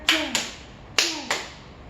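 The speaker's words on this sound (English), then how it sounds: "So it's a clap and a slap" Children clap and then slap in a kitchen rhythm game, four sharp hand hits in two clap-slap pairs, close and crisp with short ringing tails and no voices.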